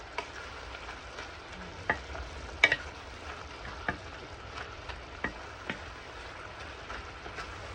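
Pork and vegetables are stirred in a frying pan over a low, steady sizzle, with a spatula scraping and clinking against the pan every second or so in an uneven rhythm, close by and fairly quiet.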